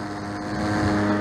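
An electric two-seater paramotor in flight produces a steady, close, droning whir of motor and propeller, continuous and unbroken over a brief moment.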